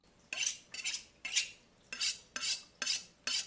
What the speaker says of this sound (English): what about the sounds of cooking itself?